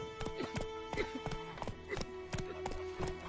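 Horse hooves clip-clop steadily in The Witcher 3: Wild Hunt video game on PS5, a regular rhythm of crisp hoof strikes over a soft ambient tone with a quiet voice talking.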